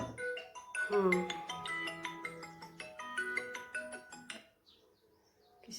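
A phone ringtone playing a bright chirpy melodic tune from a customer's incoming call, close and fairly loud, stopping before a brief quiet end.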